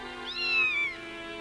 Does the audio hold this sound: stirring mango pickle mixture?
no